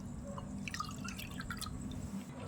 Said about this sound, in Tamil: 6 கப்பு தண்ணி ஊற்றிக்கலாம்.